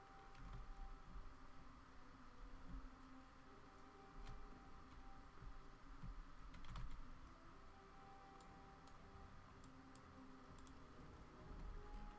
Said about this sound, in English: Well, I'm right-clicking.